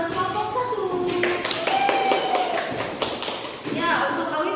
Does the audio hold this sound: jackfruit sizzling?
no